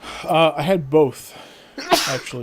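A single sharp sneeze bursts out between stretches of conversational talk, brief and fairly close.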